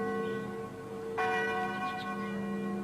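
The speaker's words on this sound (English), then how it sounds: "The bell that rings today at St. Michael's and All Angels in Christchurch actually came with the settlers" The church bell at St. Michael's and All Angels in Christchurch, a settler-era bell brought on one of the first four ships, strikes once with a clear metallic onset and then hums on with a long, steady ringing decay.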